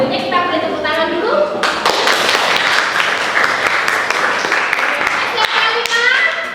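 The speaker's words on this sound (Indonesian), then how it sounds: "Sebelum kita memulai jargonnya, kita boleh tepuk tangan dulu." A school class claps hands together, many pairs of hands in a loud, busy burst that starts after a voice speaks and keeps going close by, with children's voices mixed in.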